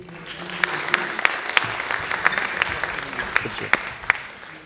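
Moderate applause from a conference audience welcoming a speaker at a product management talk, a steady patter of claps with a few sharper ones standing out, at medium distance.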